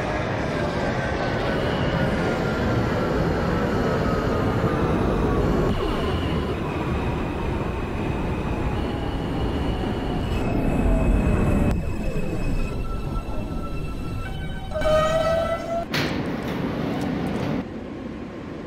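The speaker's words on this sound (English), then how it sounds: "This is a Brooklyn-bound R local train." An R160A subway train in the OpenBVE simulator runs along the track with a steady rumble and a falling motor whine, then slows with squeals and clanks toward the end.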